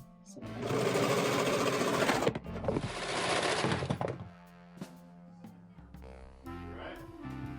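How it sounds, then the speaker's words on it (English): Serger sewing machine stitching fabric doll mittens for an 18-inch doll, a loud, fast mechanical whir lasting a few seconds before stopping, followed by quieter handling sounds. "I find it's easier to just use my serger"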